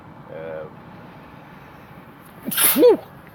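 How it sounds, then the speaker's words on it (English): A single sharp sneeze bursts out near the end, loud and close, after a brief quiet murmur. "Excuse me, sneezing away."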